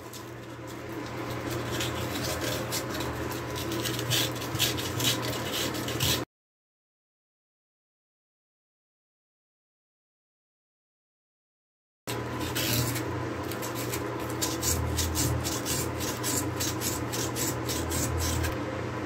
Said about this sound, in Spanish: Tomamos un trozo de lija y por esta parte que está aquí detrás